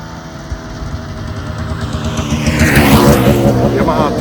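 A two-stroke Yamaha DT175MX motorcycle approaches on a country road, its high buzzing exhaust growing louder and rising in pitch as it passes close, over a steady background engine hum.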